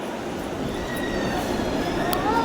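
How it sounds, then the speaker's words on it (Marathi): A train arriving at a busy Mumbai station, a steady rumbling wash of rail noise with faint wheel squeals and clatter, fairly close and continuous, with crowd murmur mixed in. "हे बघा आली ट्रेन"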